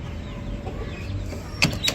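A hen brooding on a clutch of duck eggs gives two brief, sharp clucks near the end, over a low, steady background rumble.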